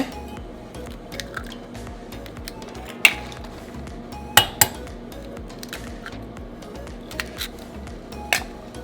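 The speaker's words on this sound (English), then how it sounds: "I'm gonna go ahead and put 2 eggs in the bowl here." Two eggs cracked into a bowl, giving a few sharp clinks of shell against the rim followed by soft wet squishes and drips, close and fairly quiet over a low background hum.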